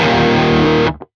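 Heavily distorted electric guitar played through a Mesa cabinet impulse, a dense sustained chord that rings loud and full, then cuts off abruptly, leaving one short faint note afterward.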